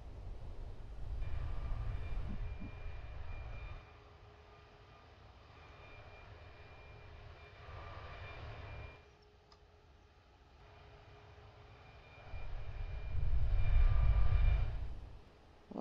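Jet engines of an Airbus A340 airliner in Roblox Aeronautica rumble steadily at the gate, with a low, loud roar that swells and fades a few times over a continuous engine drone; no one speaks.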